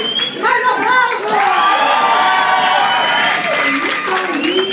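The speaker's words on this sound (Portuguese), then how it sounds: "Mais aplausos!" Cheering crowd with steady clapping underneath, at a subway gathering; excited shouts and whoops ride over the applause, loud and sustained with a brief dip toward the end.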